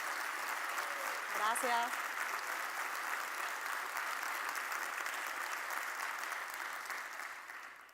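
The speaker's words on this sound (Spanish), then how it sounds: "por ese aplauso tan cariñoso" Warm, sustained audience applause fills a conference hall, even and continuous, with a brief spoken word of thanks near the start and the clapping slowly fading toward the end.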